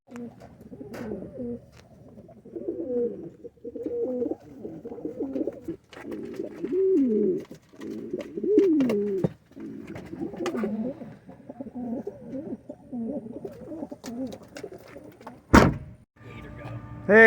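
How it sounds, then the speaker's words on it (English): Racing pigeons gathered at an outdoor pigeon show coo and flutter continuously, soft throaty calls layered together, with occasional knocks and clatter and a loud thump near the end. "that's a lot of birds"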